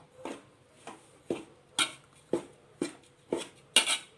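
Amritham powder mixture stirred in a pan, with a spoon scraping and knocking against the pan in eight regular strokes, close and distinct, no voices.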